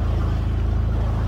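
A sailboat motoring under its engine, heard as a steady, close, loud low-pitched drone with an even throb and no speech.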